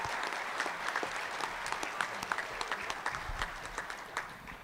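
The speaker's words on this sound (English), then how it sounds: "So if we could give one round of applause to our Anna" Applause at a high school graduation ceremony, a crowd clapping steadily throughout with individual sharp claps standing out, moderately distant and sustained.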